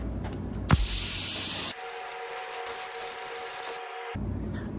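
A spray gun hisses loudly for about a second as pretreatment is laid onto a metal test panel, then cuts off, leaving a steady low hum in the background.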